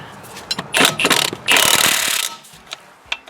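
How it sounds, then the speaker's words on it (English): An air impact gun with a torque-limiting socket stick drives a wheel fastener during a front wheel hub replacement on a 2001 Pontiac Grand Am, firing in two loud rattling bursts before stopping, with softer clicks around them. "socket and the air gun, impact gun"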